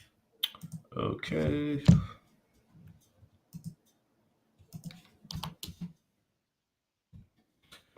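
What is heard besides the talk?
computer mouse clicking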